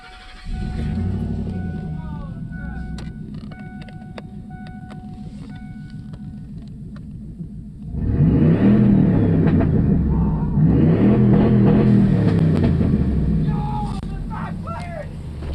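Truck engine in a garage cranks and catches, idling with a steady rumble, then revs hard around the middle with loud surging roars and sputters; voices talk over it.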